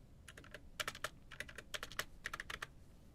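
Keyboard keys and latches click and clack sharply up close during ASMR keyboard cleaning, coming in irregular quick bursts with no talking.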